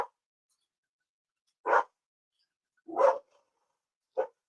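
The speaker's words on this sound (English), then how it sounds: "The dog is barking." A dog barks three separate times, each a single short bark with about a second of silence between, heard clearly at moderate distance in a quiet indoor setting, with no one talking.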